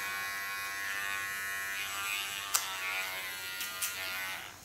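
A small electric hair clipper buzzes steadily and quietly while cleaning up a hair contour line, with a few brief sharper contacts partway through.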